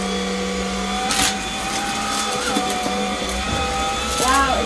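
Craftsman V20 cordless stick vacuum running close, a steady high motor whine and airflow hiss with a brief low hum before it spins up, faint talk underneath.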